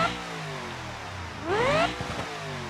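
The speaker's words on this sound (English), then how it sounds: "This is the sound of the default Supercharger." Supercharged car engine in the BeamNG.drive game revving up with a rising whine, steady engine drone before and after a short swell in the middle, no voices.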